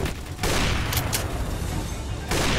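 Dense, rapid gunfire from a Roblox video game crackles in loud, continuous bursts with a brief gap, close and harsh without talking.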